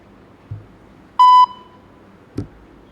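One clear electronic beep, short and steady, sounding alone between a couple of soft clicks or thumps.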